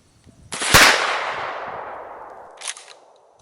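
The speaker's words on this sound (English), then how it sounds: "Let's take a shot with it, see what type of start pattern we get." A shotgun fires 00 buckshot through a turkey choke at a 7-yard target: one sharp, loud blast with a long ringing decay, followed by a brief fainter crack or echo about two seconds later.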